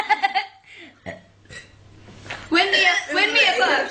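Burps during an alphabet burping challenge: several short voiced belches at the start, then a longer drawn-out burp, with laughing and chuckling close by.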